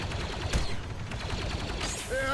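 Blaster gunfire in a Star Wars VR mod game: a sharp shot cracks out near the start, then rapid repeated firing and electronic zaps continue over a dense battle din.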